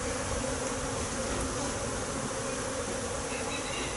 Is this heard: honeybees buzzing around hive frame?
yes